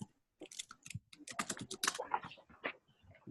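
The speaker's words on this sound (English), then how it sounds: "Sorry, I'm typing, trying to listen to you guys." Rapid clicking keystrokes on a computer keyboard come in quick irregular bursts, close and fairly quiet, with brief pauses between runs of typing.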